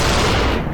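Dense burst of gunfire from SUPERHOT VR, a loud rapid fusillade of shots filling the short moment with no voices over it.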